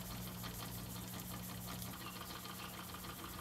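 A small oscillating steam engine runs with a fast, even mechanical chuffing and whirring, faint and steady with a low hum underneath.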